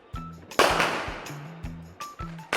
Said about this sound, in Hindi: वो देर रात तक बांस पटाखे जलाते हैं